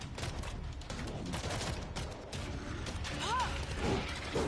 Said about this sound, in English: I'm reloading.